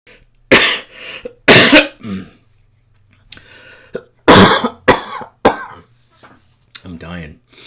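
Several harsh, loud coughs in bursts, close by, separated by short pauses, with a hum in the background and a few throat-clearing sounds.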